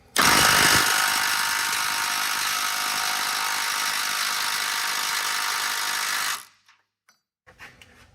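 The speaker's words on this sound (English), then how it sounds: "I got a universal and a socket on there, and I should be able to impact it out quick" A pneumatic impact wrench hammers loudly for about six seconds on a Ford F-150 transmission cooler line fitting, driving a socket through a universal joint, then cuts off, followed by a few faint knocks.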